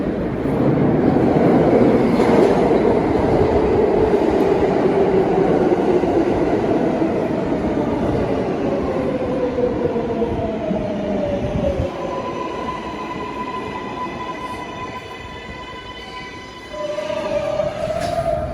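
A New York City subway train rumbles loudly, wheels squealing as it slows, with rising and falling electric whine and a brief quieter dip before the motor noise returns.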